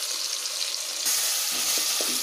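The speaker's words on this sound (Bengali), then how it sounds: "ମସଲାଟାକୁ ଆପଣ ଭଲ ଭାବରେ ଭାଜି ନେବେ" Spice paste of onion, garlic, ginger, coriander, cumin and chilli powder frying in hot oil for a prawn and soybean curry, a loud, close hiss that jumps in intensity partway through, with a few soft stirring knocks.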